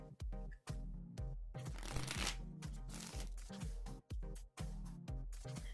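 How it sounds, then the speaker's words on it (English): A deck of playing cards is shuffled up close for a card game, with repeated riffling bursts separated by short pauses and soft taps as the deck is squared, no voices over it. "Then shuffle the cards."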